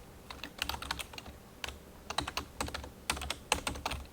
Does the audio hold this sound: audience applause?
no